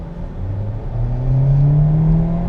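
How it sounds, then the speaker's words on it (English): A 2027 Kia Seltos X-Line S SUV engine drones nearby, its pitch climbing steadily as it accelerates hard and grows louder toward the end. "you can hear this engine working overtime"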